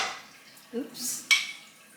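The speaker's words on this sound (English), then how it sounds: "That ping is something you always want to hear. It means that they are sealing." Home-canned jars of caldo de res, just lifted from a boiling canner, give a single sharp metallic ping as a lid seals, set apart by faint clinks in an otherwise quiet kitchen.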